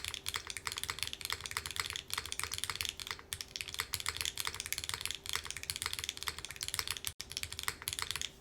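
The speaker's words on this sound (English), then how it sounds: "But it's a very pleasant tonality to the keyboard." Typing on a concrete-cased keyboard with an FR4 gasket-mounted plate, no foam and full-travel W1 diamond switches: a dense, steady stream of close, crisp keystrokes with a soft, even tone.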